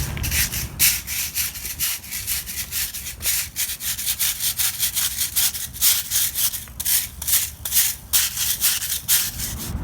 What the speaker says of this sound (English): Just going to use the handheld crack broom. So I'm just going to work it in, and just to make sure that all the dirt and debris is out.